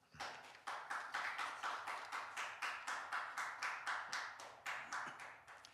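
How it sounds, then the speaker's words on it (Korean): Rhythmic, evenly spaced claps sound from a small audience welcoming a pastor to a lecture, about twenty sharp beats in a steady tempo, fairly faint and with no talking. "우리 최광희 목사님 모실 때 뜨거운 박수로 환영해 주시면 고맙겠습니다"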